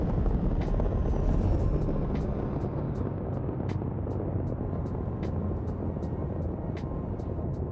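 Spaceship touching down with landing gear deployed in a multiplayer sci-fi video game, a steady broad engine rumble and whine throughout with regular faint clicking ticks layered on top, no speech.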